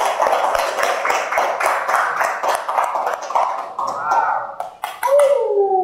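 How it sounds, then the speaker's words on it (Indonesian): Children applauding at the end of a classroom lesson, a lively burst of hand claps with some voices mixed in, fading as a few voices rise near the end. "Tepuk tangan untuk hari ini."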